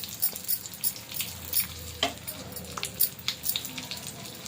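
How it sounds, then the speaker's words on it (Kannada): Cashews frying in ghee for dry fruit gulab jamun, a close, steady sizzle with crackling pops and scraping stirs, no talking. "ತುಪ್ಪದಲ್ಲಿ ಸ್ವಲ್ಪ ಫ್ರೈ ಮಾಡ್ಕೊಂಡು ಅದನ್ನು ಬೆರೆಸ್ಕೋಬೇಕಾಗುತ್ತೆ."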